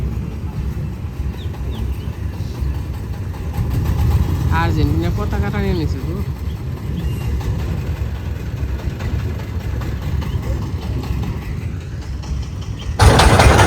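A steady low engine drone runs throughout, like a motorboat motor nearby, with people talking over it.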